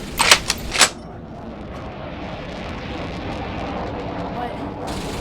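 Gunfire in the Roblox video game War Tycoon, a quick burst of several sharp shots at the very start, followed by a steady background rumble of game ambience for the rest of the clip.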